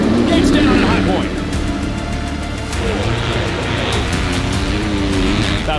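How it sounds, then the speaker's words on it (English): Motocross bikes at a Pro Motocross starting gate at High Point, engines held at high revs in a loud, sustained droning roar as a commentator talks over them. "Revs are up. Let's do it. Gates down on high point."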